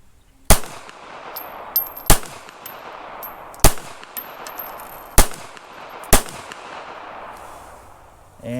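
A Taurus Spectrum .380 ACP pistol fires five sharp, loud shots spaced about a second or more apart, each with a brief ringing tail, at an outdoor range.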